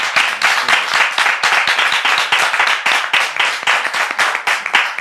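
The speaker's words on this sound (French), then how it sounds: "On peut le témoigner avec des applaudissements," A television studio audience breaks into sustained, loud applause, with dense, rapid clapping that continues steadily throughout.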